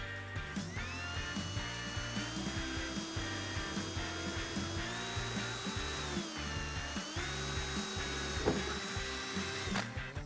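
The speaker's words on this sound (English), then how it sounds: "And now with the 21/64 drill bit, drill them out larger." A power drill with a 21/64 bit runs steadily for several seconds, enlarging holes for a rear spoiler on a 2015-2021 Ford Mustang fastback, its motor pitch dipping under load as it cuts, close and loud, with no voices.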